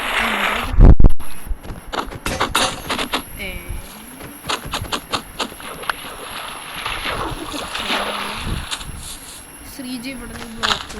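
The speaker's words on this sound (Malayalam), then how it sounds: "ബോട്ട് പൊട്ടിക്കട്ടെ." A boat being broken in a video game produces a series of short, sharp knocks and splashy clatters, mixed with game ambience and heard under ongoing talk.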